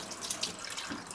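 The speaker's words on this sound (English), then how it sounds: "Must wash it first and then take out the water there." Tap water running into a bowl as sago pearls are rinsed in a kitchen for payasam, a steady splashing hiss for about a second with small bright gurgles, close by and with no talk.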